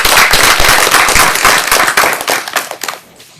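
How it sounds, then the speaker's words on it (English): A dense burst of audience applause for a panel at a public policy briefing on economic resilience: many hands clapping loudly and steadily for about three seconds, then thinning into a few scattered claps and fading out. "give a warm round of applause to our panel"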